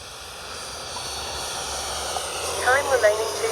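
A Freewing 90mm F/A-18C Blue Angels RC jet flies by with landing flaps and gear down, a steady turbine hiss and whine rising slightly as it passes, with a voice speaking over it.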